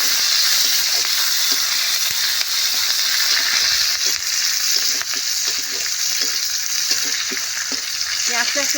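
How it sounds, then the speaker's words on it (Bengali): Chopped onions sizzle with five-spice seeds in a pan for a village-style taro-leaf and prawn dish, a loud steady frying hiss throughout with frequent scraping stirs of a spatula. "পেঁয়াজটা একটু ভালো করে ভেজে নেব।"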